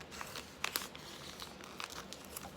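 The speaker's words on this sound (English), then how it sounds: "you're going to get your little knife or cutting tool and you're going to start cutting" A small craft knife cuts through scrapbook paper, giving faint, close crinkling and scratchy tearing sounds with a few slightly sharper ticks over a quiet background.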